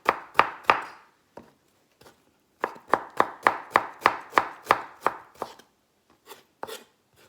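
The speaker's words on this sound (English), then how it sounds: "But today I'm just going to chop it because it's not much." Knife chopping vegetables on a board for a vegetarian pie, close and crisp: a few sharp chops, a pause, then a steady rapid run of about a dozen even strokes, trailing off into scattered taps.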